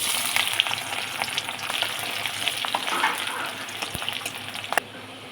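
Onions fry in a pan with a dense, steady close-up sizzle, crackling pops scattered throughout and a couple of utensil knocks near the end, with no one talking.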